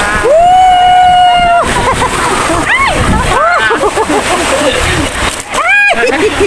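Water shower spraying onto riders at a Rainforest water park ride in Ocean Park, Hong Kong: loud, continuous splashing and sloshing, with people screaming, shouting and chattering excitedly close by.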